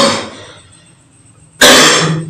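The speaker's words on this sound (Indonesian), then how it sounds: "saya sedikit batuk" Two short, harsh coughs from a man, close and loud, separated by a brief quiet pause.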